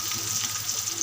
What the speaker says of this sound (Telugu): మళ్ళీ అదే బాండీలో కొద్దిగా ఆయిల్ పోసుకొని ఉల్లిగడ్డ